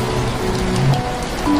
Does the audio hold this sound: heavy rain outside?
yes